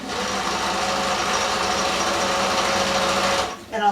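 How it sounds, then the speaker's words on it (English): A sewing machine stitches the seams of a stuffed fabric pumpkin with a loud, close, even whirring run that stops abruptly near the end, followed by a brief rustle. "so let's stitch this one."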